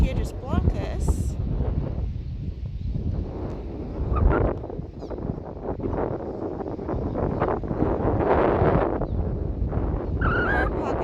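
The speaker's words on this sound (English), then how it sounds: "Got a breezy, chilly day on the coast here." Wind gusts across the coast at Piedras Blancas on a chilly day, buffeting the microphone with a constant rumbling roar, while a person talks over it.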